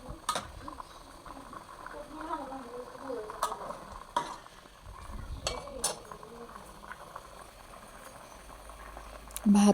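Leftover rice goes into a pan of frying winter vegetables for khichuri, with a steady low sizzle, stirring scrapes and a few sharp clinks of a utensil against the pan, close by.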